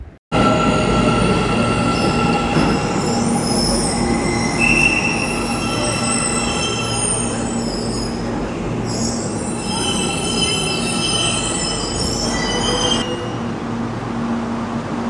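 A metro train rolls into a station in Almaty with loud, sustained metallic wheel squeal and rumbling, screeching tones rising and falling for several seconds, close by.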